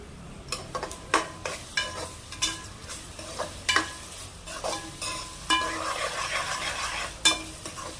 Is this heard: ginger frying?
yes